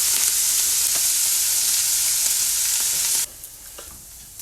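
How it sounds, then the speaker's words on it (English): Steady loud sizzling of minced pork browning in a hot pan for bolognese sauce, close up, continuous for about three seconds before dropping suddenly to a quieter hiss. "Everything frying."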